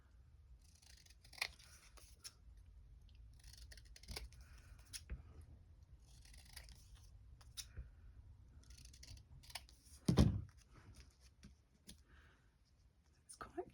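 Scissors cut paper labels at a craft table, giving soft intermittent snips and rustles with one sharper clack, all under quiet low talk.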